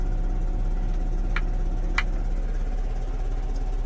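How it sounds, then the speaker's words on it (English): A tractor engine idles with a steady low, even hum throughout, with a couple of faint brief knocks and no clear rise in revs. "It will slowly regain its RPM."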